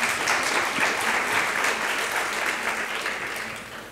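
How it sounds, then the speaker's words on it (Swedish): A conference audience claps for a presenter called up to the stage, dense, sustained applause filling the room before slowly tapering off near the end. "En applåd för Emil Stenström."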